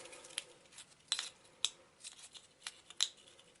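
Cards for the Arkham Horror board game are shuffled quietly. A few sharp, separate snaps and flicks stand out over a faint, hushed background.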